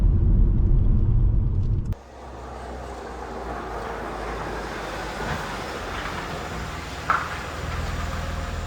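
An Audi B5 S4 drives along with a steady low engine and road rumble, heard from inside after an abrupt cut, including a brief bump midway, with no talking.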